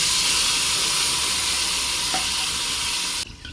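Chicken gizzards and meat frying in hot oil left from frying onions, with bay leaf, a loud, dense continuous sizzle close up that cuts off abruptly near the end.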